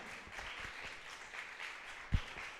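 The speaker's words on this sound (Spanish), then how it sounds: "dale un fuerte aplauso a nuestro Señor." Church congregation clapping for the Lord, a quiet, diffuse patter of applause with one sharper thump near the end.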